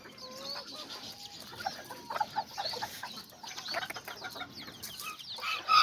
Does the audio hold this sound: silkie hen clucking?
yes